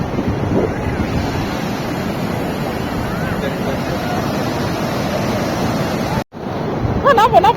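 Sea waves wash in on Puri beach, a steady broad rush of surf with heavy wind buffeting the microphone, briefly cut out near the end before returning.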